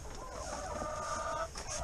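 Hens clucking inside a backyard coop while one sits in a nest box about to lay an egg, a steady murmur of overlapping calls held close and fairly loud throughout.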